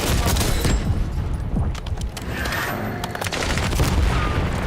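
Rocket launcher explosions and gunfire fill a Call of Duty Warzone match, with loud repeated booms and bursts of shots stacked over a dense, continuous battle din.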